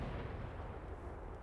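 A loud, heavy tank cannon blast in World of Tanks booms alone, a dense low rumble filling the whole moment with no voices over it.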